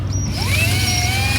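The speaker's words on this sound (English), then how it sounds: "I'm just tipping the drill bit slightly to allow that to elongate the hole" A power drill whines steadily up close while elongating a hole for an RV awning strap, its pitch rising slightly as it runs continuously.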